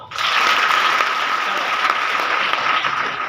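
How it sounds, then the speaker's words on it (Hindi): Applause from a room of schoolgirls at a Good Touch Bad Touch awareness session; loud, dense clapping starts abruptly and holds steady throughout, with a faint constant tone running underneath. "देखो ताली बजाओ"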